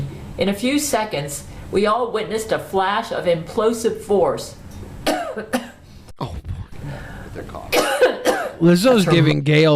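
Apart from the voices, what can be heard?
coughing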